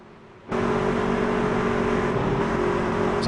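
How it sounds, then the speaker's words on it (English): Race cars at Daytona roll toward the green flag, their engines a steady loud roaring drone that swells in suddenly and holds without break, heard from close by. "let you listen to the sounds here at Daytona as the race cars come to the green on lap"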